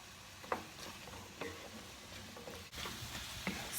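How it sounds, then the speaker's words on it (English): Onion, carrot and celery sauté in olive oil with a soft continuous sizzle, broken now and then by quiet stirring clicks and taps close by. "I'm going to add the vegetables. Let's saute it a little bit."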